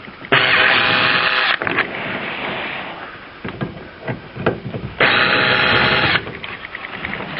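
A powered driver whirs in two steady bursts, backing out the two screws from the upper seatbelt cover inside a Camaro or Trans Am with T-tops; quieter handling clicks and rattles fill the gap between them.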